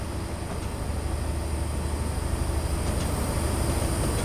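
Continuous rumbling of trains rolling along a railway line in Train Simulator 2016 on a Western main line route, a dense low drone with rhythmic clatter that grows slightly louder.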